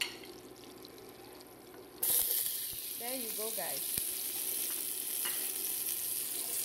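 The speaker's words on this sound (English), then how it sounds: "That's our onion frying." An onion sizzles steadily as it fries in a hot pot, a constant crackling hiss that jumps louder partway through, while a person speaks briefly over it.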